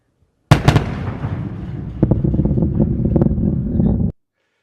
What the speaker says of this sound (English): I happened to get a little video of it where you can hear the sonic boom.